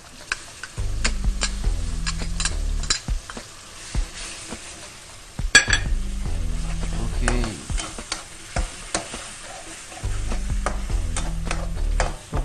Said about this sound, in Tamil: இது கொஞ்சம் ஒரு அஞ்சு நிமிஷம் வதங்கணும்